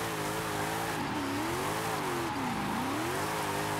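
A car in the video game Forza, a small all-wheel-drive drift build, sliding with sustained tire squeal over a droning engine whose pitch rises and falls, loud and continuous.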